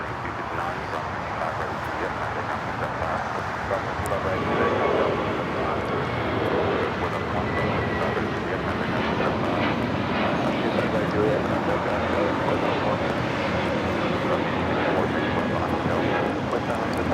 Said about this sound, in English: This is JetBlue Flight 2223 taking off to West Palm Beach on the A321 Neo LR.